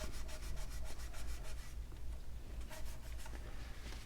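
Frets on a used Ibanez Paul Gilbert FRM 250 MF electric guitar being polished: steady, close rubbing strokes with a fast back-and-forth rhythm that runs continuously under low background noise.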